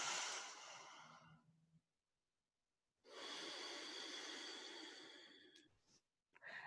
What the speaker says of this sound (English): we'll take a couple more deep breaths